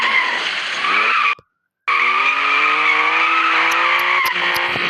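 Cars driving and skidding, with loud, sustained tire squeal close by. A short silent gap interrupts the screech, which then resumes and holds steadily.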